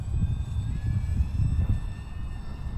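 A small UMX Waco RC model biplane with AS3X stabilization flies outdoors in a light breeze, its electric motor giving a faint, thin whine over steady low wind rumble throughout.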